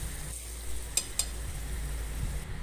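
A spoon stirs cumin, coriander and other spices sizzling in the base of a pressure cooker, a continuous frying crackle broken by two quick metallic scrapes.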